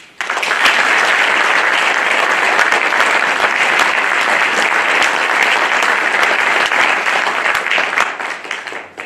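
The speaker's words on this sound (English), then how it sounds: "please join me once again in applauding all of our new Honor Society members" A school audience gives a long, loud, steady round of applause for new National Honor Society members at an induction ceremony. Dense clapping fills the whole stretch and fades slightly at the end.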